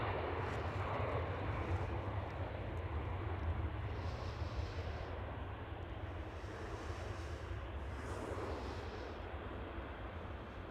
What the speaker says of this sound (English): there goes the first one. The E175, the smallest of the KLM planes.